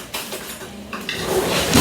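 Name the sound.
fork taken from cutlery while cooking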